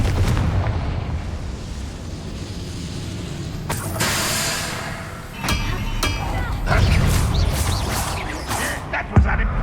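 A Confringo blast spell cast in the video game Hogwarts Legacy, bursting in sharp booms and crackling impacts over game ambience, with voices speaking partway through.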